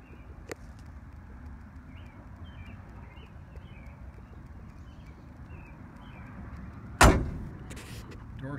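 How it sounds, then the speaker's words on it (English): A 1968 Chevrolet C10 pickup truck door slams shut once with a single sharp, close thud against a steady outdoor background hum, preceded by a faint click. "Door shut nice, you can see the bed's all been replaced."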